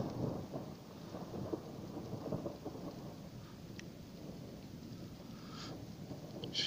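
Thunder rumbles low and heavy during a lightning storm at Bodmin, a continuous rolling growl over steady rain, with no voices.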